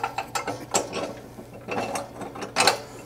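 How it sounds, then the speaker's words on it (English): A ratchet wrench tightens a long bolt on a CFMOTO plow mount, a close series of quick ratcheting clicks in short bursts with brief pauses between strokes. "Put your bolt in."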